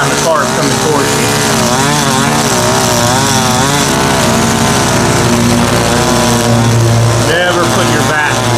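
A string trimmer cuts grass beside a road with passing traffic, its loud, steady, high-pitched engine whine running close and unbroken for the whole stretch, wavering slightly in pitch as the throttle shifts.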